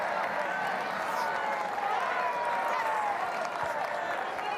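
A home crowd at a women's rugby match cheering and applauding, a dense, sustained roar of voices and clapping with a commentator talking over it.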